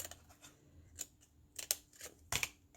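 Scissors trimming a piece of craft material, with several quiet, close snips spaced irregularly over a few seconds and no talking.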